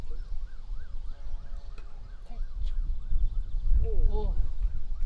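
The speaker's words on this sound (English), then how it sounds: "As we hear the police siren in the background" A police siren wails in the distance behind a school first XI cricket match, its rising and falling tone repeating steadily and fairly faint beneath outdoor noise.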